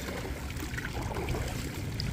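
Water from a bar tap runs into a container in a continuous, close, even rush with no pauses or voices.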